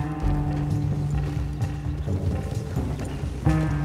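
Horses riding up in Red Dead Redemption 2, with steady hoof clip-clop and tack noise over a continuous low game soundscape. A fuller burst of movement comes near the end.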